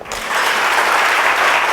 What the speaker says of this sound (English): Ladies and gentlemen, help me welcome with a great St. Martin round of applause, Dr. Foy Connor.